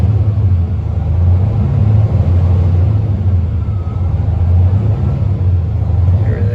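A deep diesel engine in a 2020 Western Star glider kit day cab semi truck idles and revs steadily with a loud, continuous low rumble, close by, with no other sounds standing out.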